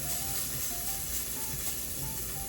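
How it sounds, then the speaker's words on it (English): Beef for a Beef Wellington sears in a hot pan over high heat, a continuous dense sizzle that stays loud and even throughout. "Key with searing is to get every side for a cool minute, I would say, on high heat"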